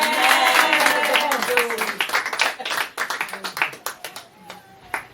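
Congregation clapping in acclaim for the Lord at a church service: a burst of many hands clapping with voices mixed in, the claps growing sparser and more scattered as the applause fades.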